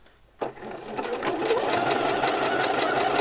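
A sewing machine stitches the hem of a T-shirt: after a quiet start it kicks in and runs steadily at close range, whirring with a rapid rhythmic clatter for about three seconds.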